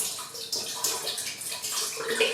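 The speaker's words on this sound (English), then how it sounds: "We're just going to add some water to the mushrooms and let them sit for about 30 minutes." Water is poured over shiitake mushrooms for a keto chicken ramen broth, a steady close splashing and running stream with no talk over it.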